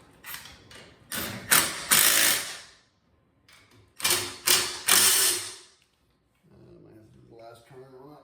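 Bolts being tightened on a Sole bike LCR induction brake: bursts of ratcheting, clicking tool action in a few close, loud clusters separated by pauses, with brief quiet talk near the end.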